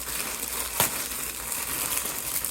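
A small plastic shipping bag being opened and cut, with a soft continuous crinkle of plastic throughout and one brief sharp rip or snip partway through, close up and alone.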